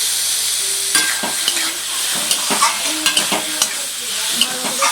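Chicken meat goes into a pan of ginger-garlic paste and fried onion for ghugni, hissing and sizzling up close while a spatula scrapes and knocks against the pan in irregular strokes; nobody speaks.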